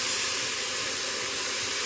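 Food fries in a hot wok with a steady, bright sizzling hiss, close and even for a couple of seconds with no voices.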